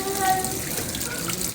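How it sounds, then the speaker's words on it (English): A tap runs strongly while conditioner is rinsed out of curly hair, giving a close, steady gush of water over the whole clip. Faint voices can be heard underneath the flow. "So conditioner wash out."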